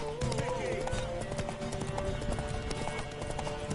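Horse hooves clip-clop in a steady rhythm in the action role-playing game The Witcher 3, heard under in-game dialogue between characters.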